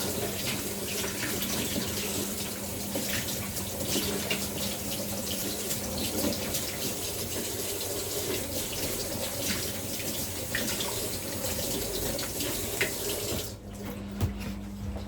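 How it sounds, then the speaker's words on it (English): Tap water runs steadily into a sink while hands are washed and rinsed clean of hair dye, a continuous close splashing that shifts briefly near the end. "But just wash them as you would normally wash your hands"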